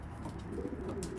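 A racing pigeon coos softly inside a loft, a brief low murmuring call close by against quiet background rustle.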